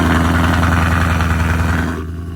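A 2024 Ford Mustang GT with a full aftermarket exhaust rumbles loud and close, its deep steady engine note running throughout before dropping slightly near the end.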